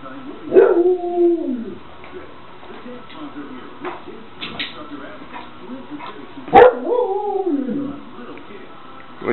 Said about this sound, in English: Doggy talking.